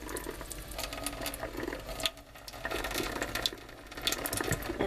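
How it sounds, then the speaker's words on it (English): Water runs and splashes faintly over a Gram stain slide during rinsing, a soft, uneven trickling hiss with small drips, fairly quiet and continuous, with no voices. "And then you rinse again"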